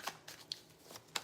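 Tarot cards being shuffled by hand in short soft riffles and flicks, several brief crisp bursts spread unevenly across a quiet moment, close and fairly faint with no voice over them.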